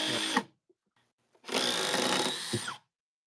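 A Milwaukee Surge impact driver runs on speed 3 in two loud close bursts, a short one at the start and a longer sustained whir after a pause, with no talk.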